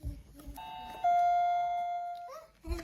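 Electronic ding-dong chime from a Melissa & Doug Take-Along wooden toy dollhouse doorbell: a short first tone, then a long sustained second tone that slowly fades, set between faint handling knocks.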